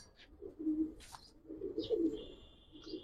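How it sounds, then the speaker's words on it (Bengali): Giribaz pigeons softly cooing close by, low rolling coos repeated in short bursts with a few faint higher chirps and sounds between them, no talking. "দোনোটা কবুতর অনেক সুন্দর"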